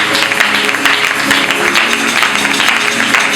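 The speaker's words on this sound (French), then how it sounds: "Moto moko kobetela kolo maboko makasi." A church congregation claps hands loudly together, a dense, continuous wash of applause that stays steady and full throughout.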